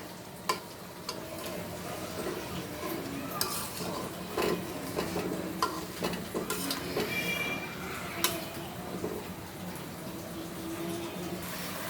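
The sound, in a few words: stirring koi fish curry in pan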